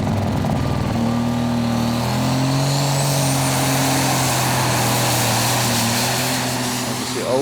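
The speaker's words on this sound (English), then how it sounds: "the next tractor is Menjen Koels from Holland." A loud, heavy tractor-pulling engine roars steadily with a deep drone that climbs in pitch during a Eurocup tractor pulling event in Brande, Denmark, and a voice talks over it throughout.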